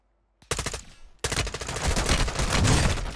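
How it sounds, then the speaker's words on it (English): Rapid bursts of automatic gunfire in a Call of Duty match, loud and close, starting with a short volley, a brief pause, then a sustained dense barrage. "Wait up, oh, I'm getting shot from the other side."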